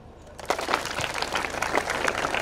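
A school audience claps to welcome a new school bus, dense applause starting abruptly and holding steady, fairly close and continuous to the end.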